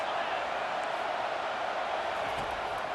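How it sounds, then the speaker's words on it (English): A stadium crowd roars at a college football game, a dense, continuous wall of noise that stays loud and even throughout, with no distinct voices standing out. "This crowd trying to make life miserable for this offense."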